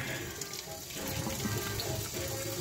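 Cooked red beans and their liquid are poured into a pot, giving a continuous rushing, gurgling pour with a thicker sloshing surge partway through.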